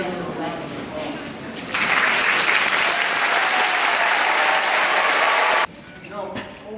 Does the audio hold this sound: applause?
yes